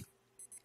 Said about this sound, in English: The alarm is loud.